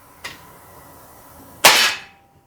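An Umarex HK VP9 CO2 blowback BB pistol fires a single sharp, close shot, preceded by a faint click and followed by a short hissing decay.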